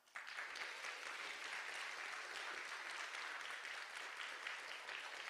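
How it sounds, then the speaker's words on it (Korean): Sustained applause from an audience of students at a university academic festival, dense and steady throughout, filling the room alone without talk. "스스로를 위해서 한번 박수 한번 하죠"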